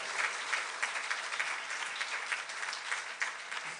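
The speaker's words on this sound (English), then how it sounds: "give them a round of applause" A crowd claps steadily in sustained applause, dense and even throughout, with no voices standing out.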